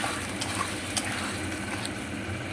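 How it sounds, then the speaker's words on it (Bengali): Chili paneer gravy being stirred in a hot pan, a soft continuous sizzle and wet scraping with a few brief clinks of the spoon against the pan, close and fairly quiet with no talking. "সম্পূর্ণটা একটু নেড়ে নিলাম, একটুখানি জল ঢেলে দিলাম, গ্রেভিটাকে মাখা মাখা করে নিলাম।"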